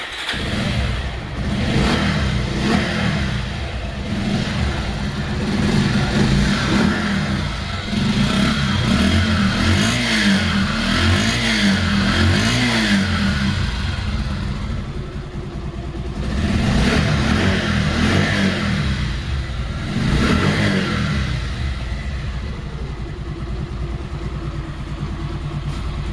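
A used second-hand motorcycle engine runs and revs steadily for the whole stretch, loud and close, with the throttle swelling and easing a few times and no voices over it.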